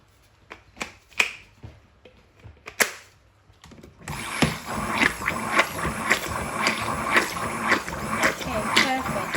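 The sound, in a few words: whisking soap mixture with a whisk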